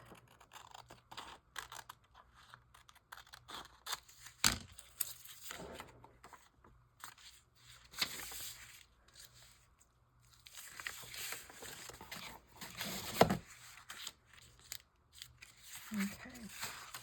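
Scissors trim paper for a card-making project, giving a few crisp, separate snips against a quiet room.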